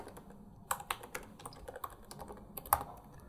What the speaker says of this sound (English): click on the image and just type something